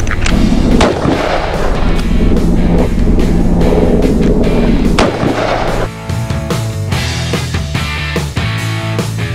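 Loud, closely spaced pistol shots ring out at an outdoor shooting range as a .44 caliber handgun is fired, the sharp reports sounding in rapid series over a busy, noisy background.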